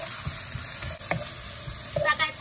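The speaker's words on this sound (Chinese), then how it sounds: "把它炒香，大概炒个一分钟，把它炒熟" Green and red chili peppers stir-fried in a little oil in a wok: a steady, close sizzle broken by a few scraping spatula strokes.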